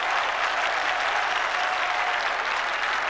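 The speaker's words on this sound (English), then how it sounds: "And it's good to hear a crowd, Peter, isn't it, applauding" A large crowd at the MCG applauds steadily during an AFL elimination final between Melbourne and Hawthorn, a dense sustained clapping that fills the whole moment.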